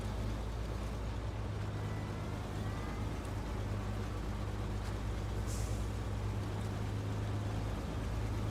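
A heavy truck in the off-road driving game SnowRunner, Washington map, its engine idling with a steady low drone and a brief hiss like an air brake partway through, alone without voices.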